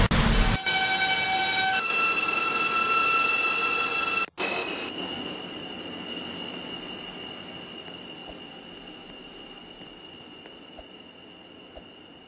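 An R68 subway train departing a terminal: brakes release with a loud burst, then high steady wheel squeal rings on and slowly fades as the cars roll away, with no talking.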